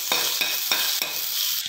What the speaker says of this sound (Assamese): এইখিনি ভাজি আছোঁ।